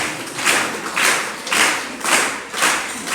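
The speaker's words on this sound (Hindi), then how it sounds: "उन पर ताली बजा लो जो खुशनसीब हैं" An audience at a Hindu religious discourse claps in steady unison, about two beats per second. Each clap burst is crisp and fairly loud, with no speech over it.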